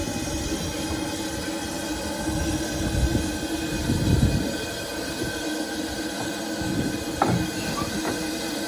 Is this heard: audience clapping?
no